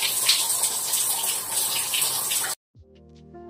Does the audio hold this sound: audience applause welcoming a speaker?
no